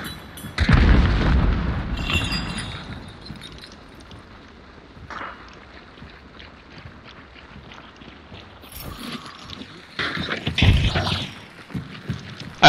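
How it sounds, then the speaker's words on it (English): A concentrated bomb goes off in the video game Hunt: Showdown, a loud close boom with a rumbling tail early on, followed by quieter gameplay noise and another burst of impacts later. "I almost hit him with the concentrating bomb."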